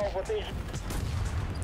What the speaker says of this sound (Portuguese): eu juro que eu escutei alguém tomando um tiro nas costas